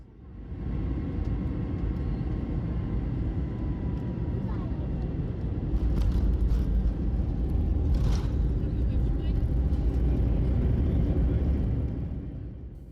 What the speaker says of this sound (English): we're now on the approach to Amsterdam's Schiphol's runway 36 right